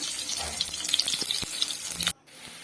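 Large chopped onion drops into hot oil with whole cumin and dried chilli, crackling and sizzling steadily for about two seconds before cutting off abruptly to near silence.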